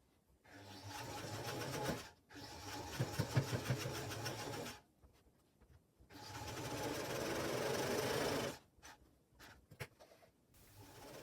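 Sewing machine stitching across the fitted-in straps at the end of a tote bag made from a pillowcase, running in three loud sustained bursts separated by quiet pauses and some light handling noise, with no talking.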